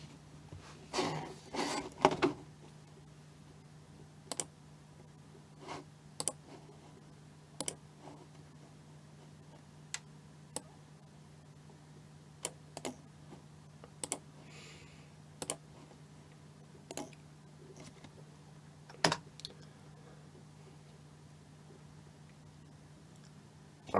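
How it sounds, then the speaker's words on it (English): Short bursts of keystrokes on a computer keyboard as a command is typed into a cmd prompt, sparse clicks spread across the stretch over a steady low hum, no voices. "type in exactly the same command"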